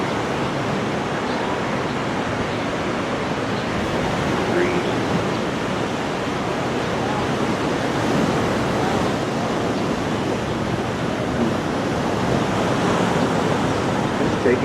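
Steady ocean surf washing in continuously, a broad even roar of breaking waves with no distinct pauses, moderately loud and heard alone.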